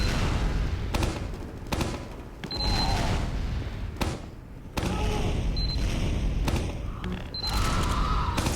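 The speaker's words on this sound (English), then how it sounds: "you can explode them mid-air at people too" Demoman stickybombs detonating in Team Fortress 2: several sharp, loud blasts in irregular succession over a dense, noisy game backdrop with faint high tones.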